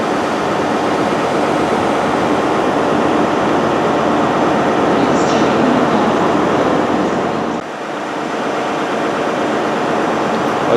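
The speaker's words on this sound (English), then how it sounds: "it's going to be departing for Edinburgh very shortly, and I've got to record the sound of its departure." Passenger train departing Inverness station for Edinburgh, a loud, steady rumble of engine and rolling wheels filling the whole stretch, easing briefly before building again.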